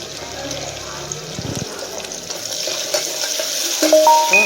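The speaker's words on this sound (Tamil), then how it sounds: "வெங்காயத்தை நம்ம வந்து நல்லா வதங்கியாச்சு." Onions sauté in oil in a pan for brinji rice, giving a soft steady sizzle with scattered stirring clatter, while a person talks over it.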